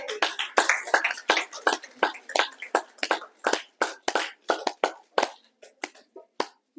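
An audience at an event in Gadarpur claps, a sparse, uneven patter of close hand claps from a small group that carries on for several seconds and thins toward the end.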